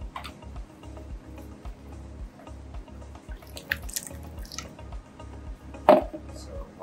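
Saltwater fish food being rinsed with an RO and salt water mix, soft irregular trickling and dripping with light clicks, close and quiet, one sharper splash near the end.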